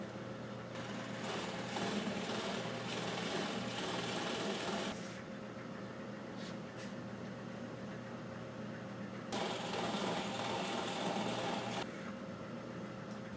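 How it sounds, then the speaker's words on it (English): A power drill bores holes into a router table, running in two sustained bursts of steady mechanical whine with a quieter pause between them, fairly close and loud. "After drilling the 2 holes on one end, turn the table around and drill the other 2 holes."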